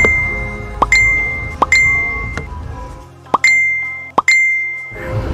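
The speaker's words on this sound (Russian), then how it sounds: "Тебе кто-то звонит?" A phone chiming with repeated message notifications: several bright ding tones in an irregular sequence, loud and close, with short sharp clicks before each ring.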